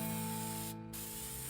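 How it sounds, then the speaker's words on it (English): Prep spray hisses out of an aerosol can onto an old diesel truck wheel in a steady, close, loud spray that breaks off briefly midway and then resumes, with no talking. "So we hit that with the prep spray and got rid of all the surface contaminants."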